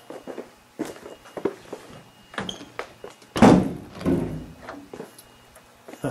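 The trunk of a gray 1956 Arnolt-Bristol Deluxe Roadster is opened: scattered clicks and latch knocks, then a loud thunk and a shorter follow-up knock, with light handling noises around them.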